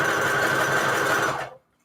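A sewing machine runs in one steady, loud burst of stitching for about a second and a half, then stops to silence while junk journal signatures are being sewn.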